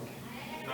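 A person imitates a hungry sheep with a wavering bleat, voiced close and fairly loud for under a second.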